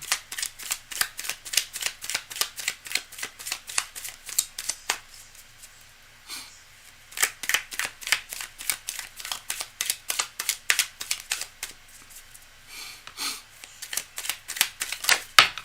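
Tarot cards are riffle-shuffled repeatedly in quick bursts of crisp flutters and taps, close up, with brief pauses between shuffles.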